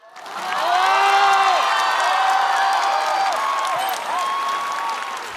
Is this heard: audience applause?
yes